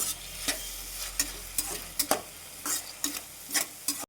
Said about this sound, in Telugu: ఈ టమోటా కూడా బాగా ఫ్రై చేద్దాం